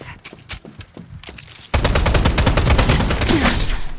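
Rapid automatic gunfire in the shooter video game Strinova, sparse shots at first, then a dense, loud continuous burst of fire.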